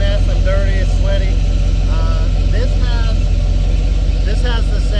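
A 1993 Chevy full-size Blazer engine idles through Flowmaster 40 series mufflers, giving a steady, deep low rumble close by with someone talking over it throughout.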